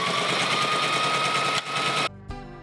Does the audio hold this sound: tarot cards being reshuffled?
no